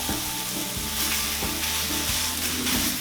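Chicken sizzles loudly on a Cuisinart 360 griddle just after being flipped, a steady, close hiss of frying oil with a few faint scrape-like ticks under it.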